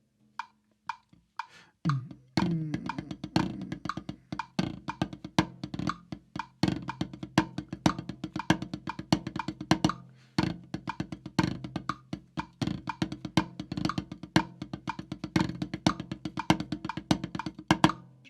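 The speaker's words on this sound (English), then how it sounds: "I'm going to make this pad my drum set." Fast, crisp sticking on a practice pad, strokes falling into repeated five-stroke roll figures at a steady tempo over a low sustained backing tone.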